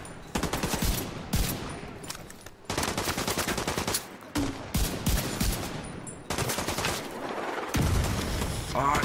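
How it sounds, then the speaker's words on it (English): Heavy explosive fire in The Division 2, likely mortars, comes as repeated loud bursts of booming, crackling gunfire with brief gaps between them. A voice can be heard faintly among the blasts. "Fuck, they got mortars."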